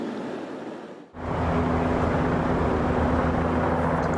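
A Lifestar medical helicopter passes overhead and descends to land at the Jacobi Medical Center emergency room in the Bronx, New York: after a brief lull, a loud, steady rotor roar sets in with a low droning engine hum.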